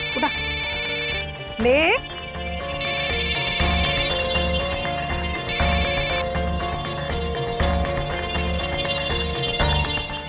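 A mobile phone rings in repeated electronic bursts inside a home, continuing under overlapping voices speaking Hindi.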